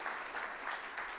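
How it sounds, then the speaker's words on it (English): Brief round of applause from an audience at a live AI community event, a steady wash of clapping at moderate level with no voices over it. "So if we could give them a round of applause."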